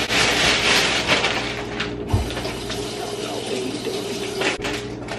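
Items are rinsed under a running kitchen tap, giving a steady close rush of water with occasional clatter and knocks.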